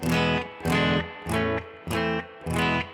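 Guitar strums five short chords of an old-fashioned blues progression in a steady, bouncy rhythm, each chord ringing briefly before the next, close and alone.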